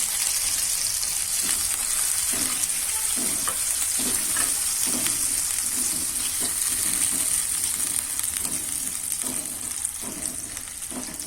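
Curry leaves, ginger and green chili being stirred in hot oil in a pan for Gujarati farali khichdi: a steady loud sizzle and frying hiss throughout, with repeated rhythmic scraping strokes of the spoon.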